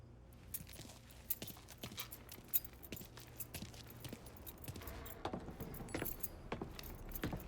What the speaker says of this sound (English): You got the keys so you can drive.